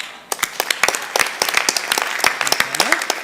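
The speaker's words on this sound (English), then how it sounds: "Give a round of applause." A conference audience claps at a tech launch event in a sparse, uneven round of distinct claps that thickens slightly, with a voice briefly heard near the end.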